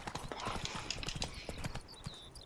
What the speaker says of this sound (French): il va déjà giga vite, hein, le cheval